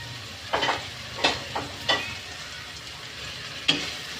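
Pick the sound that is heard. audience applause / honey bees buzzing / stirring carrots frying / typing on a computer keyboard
stirring carrots frying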